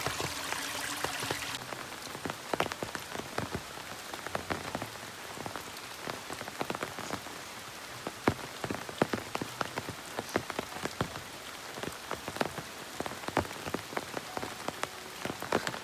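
Heavy rain pours down steadily over a mountain village, with sharp drops spattering close by over a continuous dense hiss.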